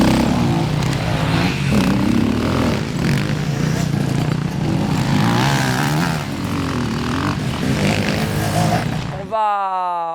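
An enduro motorcycle engine roars loudly and steadily as the bike is ridden through off-road turns, a rough, close mechanical drone that holds for about nine seconds and then cuts off abruptly.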